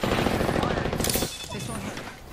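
Gunfire in Apex Legends, a rapid stream of loud shots for about a second, then scattered quieter shots, with a voice speaking over the battle noise.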